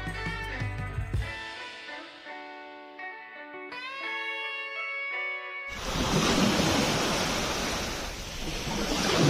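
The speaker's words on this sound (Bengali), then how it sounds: "ঢেউটা দেখুন, ঢেউটা" Sea waves break and wash up the beach at Mousuni Island, a broad rushing roar that swells loudly in the second half after a stretch of tonal music at the start.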